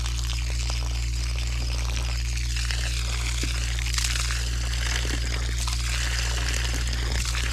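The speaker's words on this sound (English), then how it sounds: "That's our water coming out." Water gurgles and trickles as it drains out of a rusty fuel tank, a continuous splashing pour over a steady low mechanical hum.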